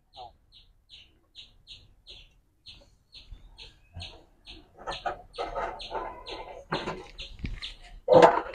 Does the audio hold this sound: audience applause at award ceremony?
no